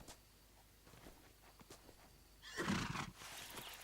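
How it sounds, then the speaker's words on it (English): A horse neighs loudly and close by in a burst near the end, with scattered soft clopping and scuffing steps before it and a noisy outdoor background afterward. "I hear a horse"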